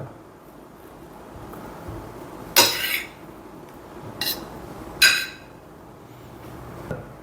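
A knife cuts into a King of Chakapat mango, making a few sharp clicks and brief scrapes against a hard surface. The close, crisp hits are separated by pauses over a soft background hiss.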